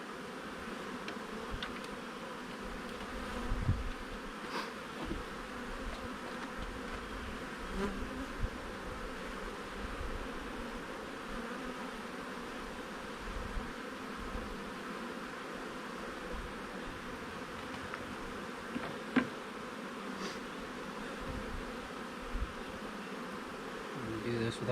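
Honey bees buzz continuously around an open hive during an inspection, a dense steady drone with occasional louder bees passing close by and light handling noises.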